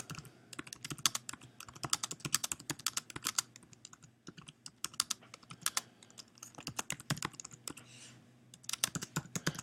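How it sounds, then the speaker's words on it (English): Rapid keystrokes on a computer keyboard come in bursts with short pauses, close and clear, as a short message is typed. No one speaks. "I can type in a message"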